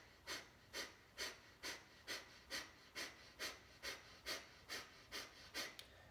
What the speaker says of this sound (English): Begin Kapalabhati through the left,